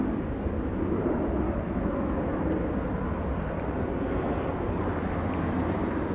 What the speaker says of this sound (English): Looks like we had a Delta 767 land in the south.